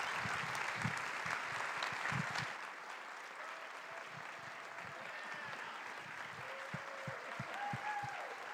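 Applause at a church White Stone Ceremony, a crowd clapping fairly loudly at first and then settling into a softer sustained patter with occasional sharper individual claps and faint voices.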